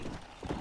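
Horse hooves clip-clop in a brief, close burst during riding in the video game Red Dead Redemption, a few quick hoof strikes with no speech.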